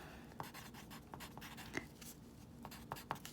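Pen or pencil writing out a polynomial long division by hand makes irregular scratchy strokes and small taps, close and quiet, with no speech.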